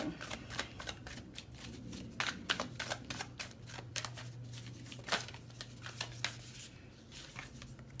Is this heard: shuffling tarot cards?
yes